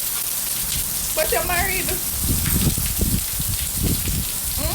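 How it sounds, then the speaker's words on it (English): Steady rain pours down on surfaces as a constant loud hiss with scattered drip and patter, while a voice briefly speaks over it. "All day in the rain."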